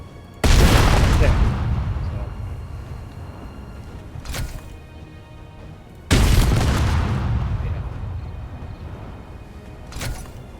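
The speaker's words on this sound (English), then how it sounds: "Almost instantly destroyed by one shot of a rocket launcher" Space Engineers rocket launcher shots blowing apart a build: two heavy, loud booms a few seconds apart, each trailing into a long rumbling decay with a smaller thud after it.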